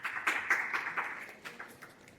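An audience applauds a game-show participant stepping forward, with brisk clapping that starts strong and gradually thins out over a couple of seconds.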